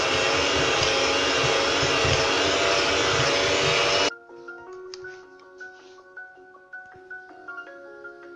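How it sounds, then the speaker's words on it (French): An electric hand mixer creaming softened butter and sugar gives a loud, steady whirring hum for about four seconds, then stops, leaving quiet light clicks and taps. "Je travaille au batteur électrique donc le beurre et le sucre en crème"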